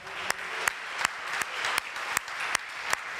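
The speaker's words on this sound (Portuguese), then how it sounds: "Dê uma salva de palmas para Jesus." A church congregation applauds during a Portuguese-language worship service, soft crowd clapping with a steady, rhythmic beat of louder claps recurring about every third of a second.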